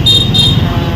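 Cars stuck in a traffic jam near a beach festival give a steady, close road rumble with a faint high tone above it, lasting about a second with no speech.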